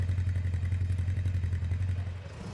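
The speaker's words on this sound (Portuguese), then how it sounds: "No caso ele liga a moto aqui" A motorcycle engine, standing in for a quad bike, runs with a steady low throbbing rumble and a fast mechanical clatter, close and loud throughout before easing slightly near the end.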